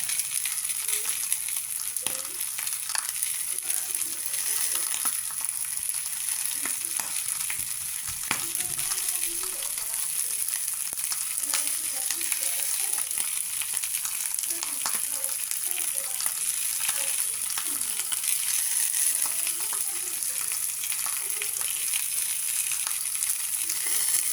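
Dried fish (daing) fries in a pan, crackling and spitting in a continuous, even sizzle that carries on alone with occasional sharper pops.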